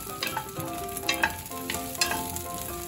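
New potatoes, washed and drained, sauté in a coat of oil in a pan, giving a steady, close crackling sizzle with soft stirring scrapes, and no voices.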